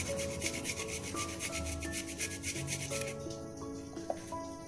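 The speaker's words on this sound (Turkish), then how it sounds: "tek bir diş sarımsak rendeliyorum içine" A single garlic clove is rubbed against a kitchen grater into a chicken breast marinade with paprika and cumin, giving a steady, close, rapid rasping scrape over about three seconds before it tapers off, with no one talking.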